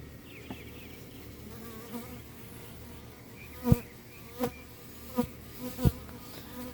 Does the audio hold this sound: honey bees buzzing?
yes